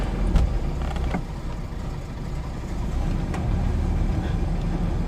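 An AMC Eagle's engine runs rough in the cold while the car reverses, a steady, loud, low rumble close by with a few faint clicks and knocks over it.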